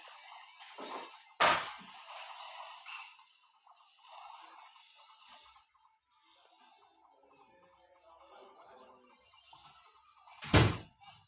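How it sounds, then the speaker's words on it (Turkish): A door shuts twice in a quiet room, first with a sharp thunk early on and again with a louder thump near the end, with faint rustling and no talking between them. "kapı kapanma ses gelebilir"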